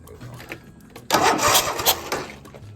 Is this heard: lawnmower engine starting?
yes